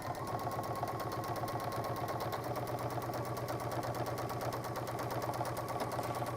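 A home sewing machine topstitching fabric runs in a steady, fast, evenly pulsing whirr throughout, close and continuous with no talking.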